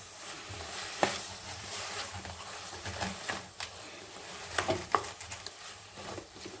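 Pav bhaji masala fries with a spoon of sugar in a pan while a spoon stirs it, making soft scraping strokes over a faint, low sizzle. The sound is quiet and close, with no voices.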